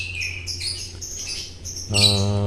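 Small colony of lovebirds chirps and tweets in sharp, overlapping bursts close by, over a low steady hum, with a louder buzzing call near the end.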